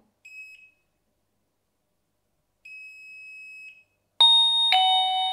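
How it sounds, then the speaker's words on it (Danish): A Nedis smart doorbell chime, set off by a water detector in a wet cloth, sounds alone: a short electronic tone, a longer sustained tone, then a loud two-note ding-dong chime. "og så reagerede min klokke på det"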